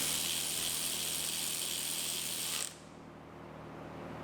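A ratchet tightens a bolt on the engine mount of a Chevrolet Equinox with a rotted frame, giving a fast, continuous clicking buzz for over two seconds that then stops abruptly, leaving quiet room noise.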